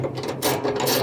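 A bolt being removed from a dryer idler pulley, a short burst of rapid ratcheting clicks, close and moderately loud, with no talking.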